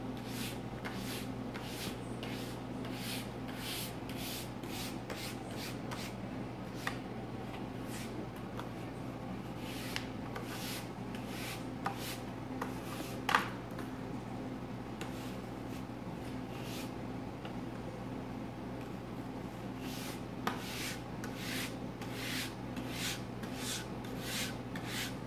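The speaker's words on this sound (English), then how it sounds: "So we'll start with brushing this wax off now." Stiff brush scrubbing old wax off downhill skis: rapid repeated scratchy strokes in a steady rhythm, close and moderately loud over a constant low background hum, with no talk.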